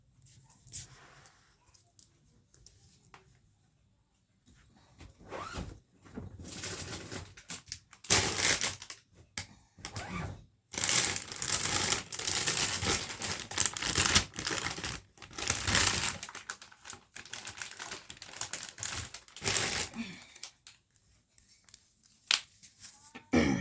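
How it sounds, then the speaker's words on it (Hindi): Tarot cards being taken out of a bag, with bursts of rustling, crinkling and shuffling that come and go, fairly close and no voice over them. "मुझे अपने बैग में से कार्ड निकालने पड़ेंगे"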